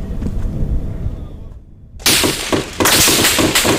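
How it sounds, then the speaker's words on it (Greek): Israeli soldiers fire gunshots during an arrest of suspected Hamas fighters; after a quieter stretch of rumble and a brief silence, loud sharp cracks burst out in close succession, very near and harsh. "Με φωνές και πυροβολισμούς τους αναγκάζουν να πέσουν στο έδαφος."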